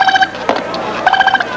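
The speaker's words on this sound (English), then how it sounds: "it won't stop ringing" A telephone rings in a 1986 television commercial, its electronic warble sounding in two short bursts with a gap between them, with a faint voice underneath.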